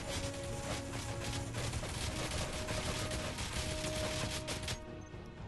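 Ship-mounted weapons firing in Space Engineers, a loud, dense barrage of rapid gunfire that keeps going for several seconds before easing off at the end.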